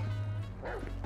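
Chop the dog from GTA V gives a short yelping bark with a whimpering edge, close and brief over a steady low game soundtrack.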